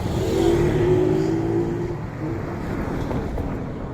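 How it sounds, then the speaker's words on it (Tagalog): Vehicles pass on a road beside the Stone Ark landmark in Pagsanghan, with a loud engine rumble and droning hum that swells early and then eases into a steadier, fainter wash of traffic noise. "May mga dumadaan pa kasi sasakyan."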